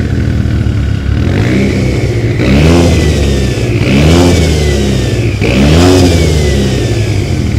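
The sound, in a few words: turbocharged car engine revving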